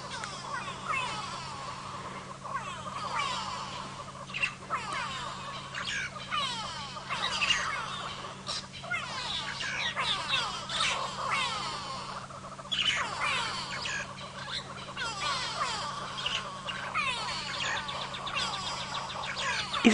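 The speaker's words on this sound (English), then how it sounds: "We have a Verreaux eagle owl sitting on a very low branch of a Tombwerty tree" A Verreaux's eagle owl perched on a low tree branch at sunrise on a safari drive gives repeated high squealing calls. The calls sound close and continuous over a steady low vehicle hum.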